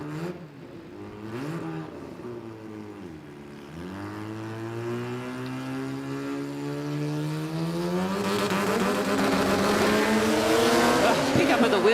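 A drag racing car, apparently a Falcon ute, runs the quarter mile at a test event, the engine climbing through several gear changes and swelling into a loud roar, with a commentator talking throughout.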